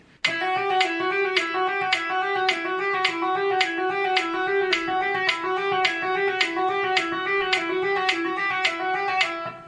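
Steady, smooth guitar notes flow in a repeating legato pattern with regular accents about every half second, clean and close with no talking.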